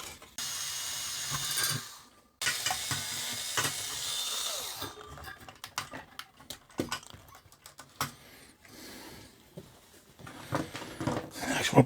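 Knobs are unscrewed and worked loose on an Akai AMU-310 tape deck, producing close, quiet scraping, rubbing and ratcheting clicks in irregular bursts.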